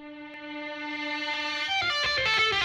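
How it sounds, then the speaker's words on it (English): An electric guitar note plays in reverse with reverb, swelling steadily louder from nothing in an 80s glam metal style, with distorted harmonics thickening toward the end. "there's a little like reverse fade in just here"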